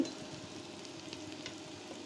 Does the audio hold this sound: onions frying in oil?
yes